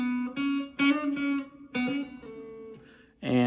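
Electric guitar plays the second half of a solo, a few sustained melodic notes and short picked licks with bends, moderately quiet and alone.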